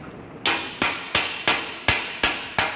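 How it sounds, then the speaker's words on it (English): A chipping hammer strikes slag off a freshly welded steel T joint, seven sharp metallic knocks in a steady rhythm about a third of a second apart, close and alone. "So now we want to remove the slag from the workpiece. So we are using the chipping hammer."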